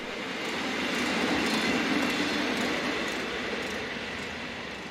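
A Czech Class 892 rail maintenance vehicle, derived from the Class 810 single-coach railcar, rolls past heading north, a steady broadband rumble and wheel noise that swells near the middle and eases off, with no voices.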